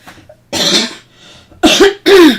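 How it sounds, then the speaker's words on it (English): Three harsh, close coughs, one after another with short pauses, the last two coming quickly, each a raspy burst. "Got a nasty little cough going on here"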